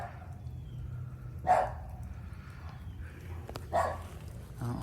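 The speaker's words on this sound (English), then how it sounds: "Hope y'all like listening to dogs." A dog gives two single barks at a middle distance, a few seconds apart, over a steady low hum of fans or equipment in an indoor grow room.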